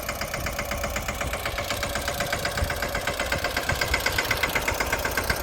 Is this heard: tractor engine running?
yes